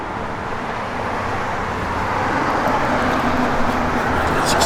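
A 1971 Chevrolet Camaro SS idles with a steady, low engine rumble that grows slightly louder toward the end, heard close by with faint outdoor noise around it.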